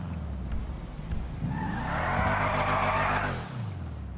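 A Toyota Supra in GTA 5 revs its engine and skids, tires squealing in a sustained screech that swells midway and fades near the end, with engine rumble underneath.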